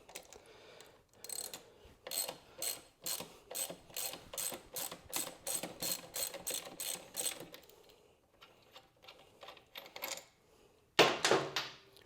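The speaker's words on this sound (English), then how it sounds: "We're going to use a T45 Torx bit, and we're going to remove this lower bolt out of the foot peg." A ratchet driving a T45 Torx bit to back out the lower foot peg bolt on a KTM 790, a long run of close, crisp clicks in quick regular strokes, pausing briefly before a final few clicks.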